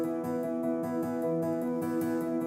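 A Steinway piano arpeggio layered with an Omnisphere Plucked Dream Piano patch that adds high-register clicking; rhythmic repeating notes with ringing sustain, steady and fairly loud, no voices.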